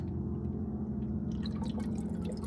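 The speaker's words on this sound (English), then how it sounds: "I have my water bottle. I'm gonna just pour a little bit of water." Water poured from a water bottle into a cup for cold brew tea, a steady close trickle with faint dripping and splashing running through the whole stretch.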